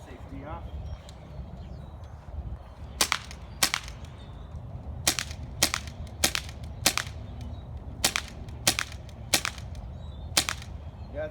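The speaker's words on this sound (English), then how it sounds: "Shooting a target at about 20 feet away." An airsoft M9 Beretta non-blowback pistol fires at a target about 20 feet away: about a dozen sharp snapping shots, single or in quick pairs with short pauses, over faint room noise.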